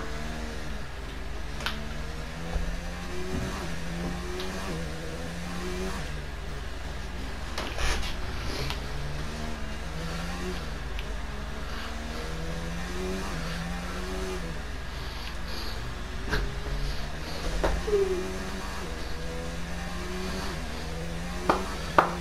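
A Formula 1 car in a racing video game laps a wet Singapore circuit in the rain, its engine rising and falling through repeated upshifts and downshifts at a steady, moderate level.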